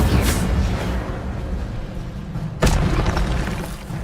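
The Incendio fire spell goes off in the Hogwarts Legacy video game as a sudden loud whooshing burst midway through, cutting into a steady dense wash of game ambience.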